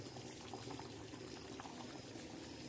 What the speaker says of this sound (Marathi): छान मस्त अशी उकळत आहे